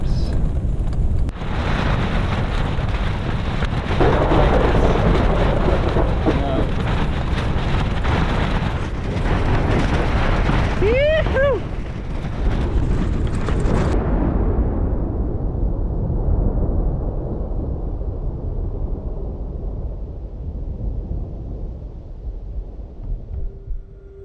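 A thunderstorm met on a long bicycle journey: a loud, continuous roar of storm wind and rumble buffeting close to the microphone, easing partway through and then lingering at a lower level.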